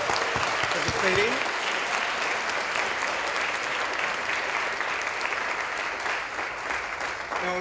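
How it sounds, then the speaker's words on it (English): An audience claps for presenters at the close of a conference session, giving a steady round of applause that holds at moderate volume for several seconds. "I'd like to give all our presenters a nice big round of applause for participating."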